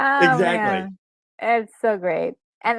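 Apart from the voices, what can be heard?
No distinct noise like a dog, phone or traffic.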